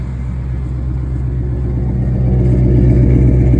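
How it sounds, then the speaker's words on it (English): A deep, steady engine rumble from a 1996 Ford F350 pickup with an aftermarket exhaust idles close by, its low throb slowly growing a little louder with no one talking. "Got a nice exhaust on it, sounds real good."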